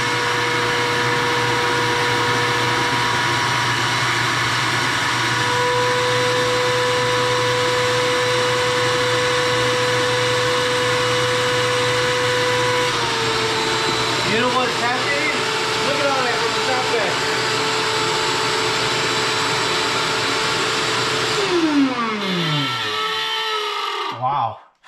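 A shop vacuum runs loud and steady with a droning motor hum, drawing air from a space-saver comforter storage bag, its pitch shifting near the end before it cuts off abruptly.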